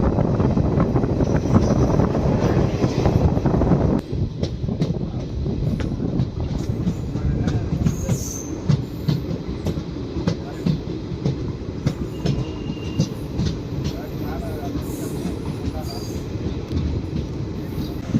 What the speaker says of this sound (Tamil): பண்ருட்டி ஸ்டேஷன் வந்து ட்ரெயின் பார்த்தீங்கன்னா டிபார்ட் ஆகி போயிட்டுருக்குங்க